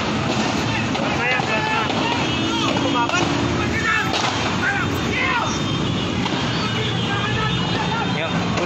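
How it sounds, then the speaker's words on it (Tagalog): Gunfire crackles during a police buy-bust operation at Ever Gotesco Commonwealth, with sharp reports scattered among wind buffeting on the microphone and a noisy outdoor crowd. Excited voices talk and shout throughout. "Grabing putukan dito."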